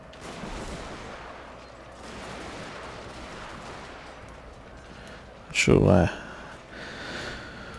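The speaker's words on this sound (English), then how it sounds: "Now I'll prioritize shooting the Kyoto police guys." Gunfire from units in the strategy game Total War: Shogun 2 – Fall of the Samurai cracks out in one sharp, loud burst midway, with a low background battle din and someone talking over it.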